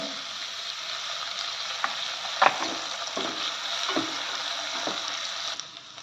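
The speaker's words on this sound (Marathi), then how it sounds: "हे बघा कांदा बारीक चिरलेला टाकते थोडा टोमॅटो थोडासा परतून घ्यायचा आहे" Finely chopped onion and tomato sautéing in a pan, a soft continuous sizzle with a few scraping stirs and light clinks, close by and without speech.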